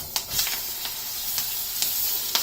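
Beef loin searing in butter in a very hot skillet gives a steady, close sizzle and hiss, with a few sharper spits and crackles rising through the continuous frying noise.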